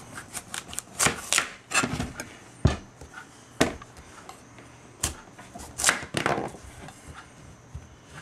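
A knife cuts through a spaghetti squash on a cutting board, giving a series of irregular sharp crunching cracks and chops, some clustered and some spaced apart, close by and with no talk.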